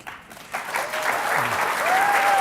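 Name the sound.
audience applause at a forum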